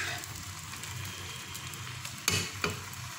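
A spoon stirs a chicken scallop mixture in a pan over a steady background hiss, with two distinct scraping knocks near the end and no talk.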